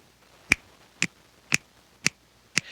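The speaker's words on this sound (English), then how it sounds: "Did you know it starts with finger snaps?" Five crisp finger snaps at an even, unhurried pace, about half a second apart, open a song, each one sharp and close with near silence between.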